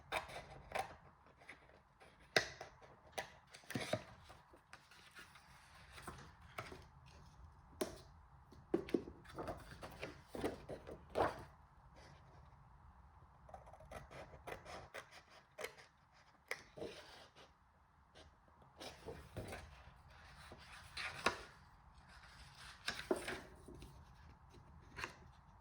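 Paper for a gift card holder being cut along a score line, heard as close, quiet, irregular snips and crisp paper rustles with short pauses between cuts.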